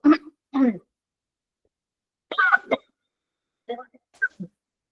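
A woman with a sore throat from illness coughs and clears her throat in several short, close bursts separated by pauses, with no other sound between them.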